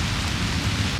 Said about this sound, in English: We got a real storm coming, Tom.